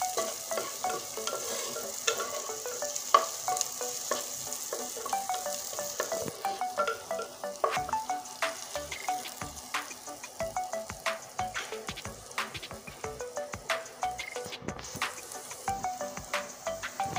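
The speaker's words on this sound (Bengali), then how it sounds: "চলো আমি পেঁয়াজটা আবার নেড়ে নিচ্ছি" Onions frying with turmeric in a pan are stirred steadily, with close, continuous sizzling and repeated scraping and clinking strokes throughout.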